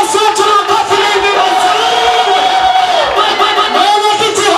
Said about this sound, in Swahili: Pigia Yesu wetu makofi mengi.